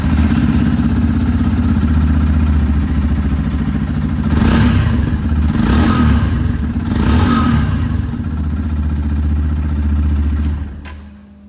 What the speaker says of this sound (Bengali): আপনি এবার রেভের আওয়াজটা একবার শুনে নিন।